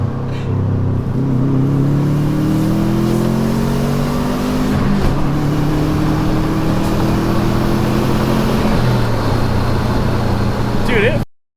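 A cheap, smelly-running Subaru WRX engine revs hard, its rising and falling harmonics loud and close for the whole stretch, with voices talking over it.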